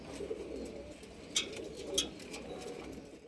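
Young adult racing pigeons coo quietly in a loft, low murmuring calls under a faint background, with a couple of brief sharper flutters or chirps.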